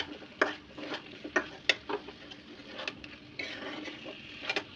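Broiler chicken and fried potatoes being stir-fried in a pan, a spoon scraping and clinking against the metal in irregular strokes over a faint sizzle, quiet and close.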